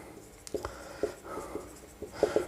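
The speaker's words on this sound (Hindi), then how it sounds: "तो लिखेंगे" Intermittent pen strokes on paper while writing out a geometry proof by hand, soft scratches and taps at irregular intervals, close and fairly quiet against a faint background hum.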